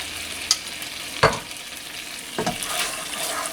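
Spoon or spatula stirring coconut cream through Thai chicken curry in a pan, a few soft scraping strokes and light wet clatter over a quiet simmer, close and fairly faint, with no talking.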